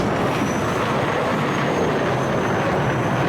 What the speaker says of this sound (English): just hearing the jets roaring like that